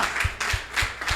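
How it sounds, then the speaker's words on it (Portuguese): Church congregation clapping in a steady rhythmic beat during a worship service, several evenly spaced unison claps ringing out clearly and fairly loud. "Você pode aplaudir ao Senhor?"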